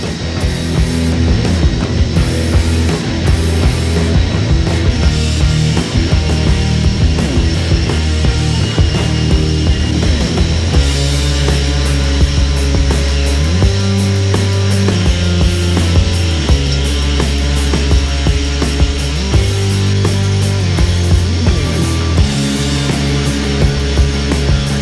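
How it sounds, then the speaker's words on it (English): A 3-stone hone working an engine cylinder bore lubricated with diesel during a VG30 block rebuild, giving a steady loud whirring grind that runs continuously for the whole stretch, with rhythmic shifts as the hone strokes up and down. "I'll give it a quick hone"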